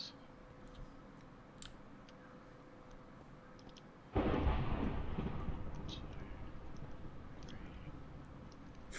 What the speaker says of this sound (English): I saw thunderstorms in this direction, Josh.